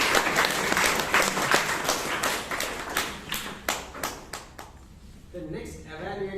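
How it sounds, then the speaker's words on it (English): Toastmasters meeting audience in Bangalore gives a round of applause for a mentor: dense, loud clapping that thins into scattered claps and fades out, followed by a voice beginning to speak. "Can we have a round of applause for the mentor"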